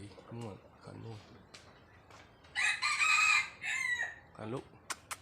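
A fighting rooster used as a decoy crows loudly in a long, strained call near the middle, with a shorter crow after it, while someone talks over the quieter stretches before and after.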